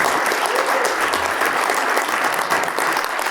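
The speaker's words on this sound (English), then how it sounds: "Can we get a really warm round of applause for our panel?" Warm round of applause from a conference audience for a discussion panel on HDR, thick steady clapping from a large crowd, loud and unbroken across the whole stretch.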